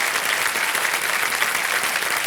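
A studio audience on the KBC game show applauds loudly and continuously, many hands clapping in a thick, steady roar with no voices over it.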